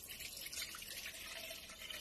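Water pours into the reservoir of an espresso machine being set up to make a latte, a steady, close splashing rush running unbroken under faint room noise.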